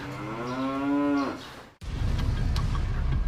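A cow on a Chinese dairy farm gives one long, clear moo that rises and trails off, followed by steady farm background noise.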